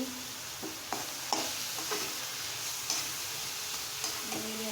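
Cumin seeds sizzling in hot oil in a pan, a steady close hiss with a few soft clicks and taps on top, no talking.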